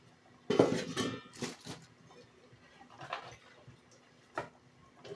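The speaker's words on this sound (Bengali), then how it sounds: "তো ভালো করে একটু নেড়ে চেড়ে দিতে হবে।" Chickpea curry (chola masala) is stirred in a pan, producing intermittent metallic scrapes and clinks of a spatula against the pot, louder at first and then sparser in a quiet room.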